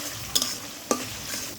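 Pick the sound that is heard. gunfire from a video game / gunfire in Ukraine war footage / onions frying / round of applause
onions frying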